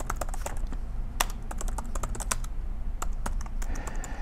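Computer keyboard being typed on while writing code, a quiet, irregular stream of close key clicks with small pauses and no voice.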